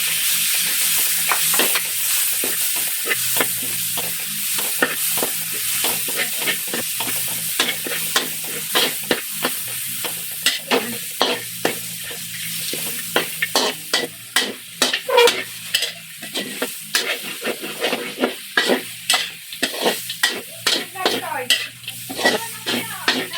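Tomatoes sizzle steadily in oil in a pan while a spatula scrapes and stirs them in quick, repeated strokes that grow busier toward the end. The sound is close and fairly loud, with no talking.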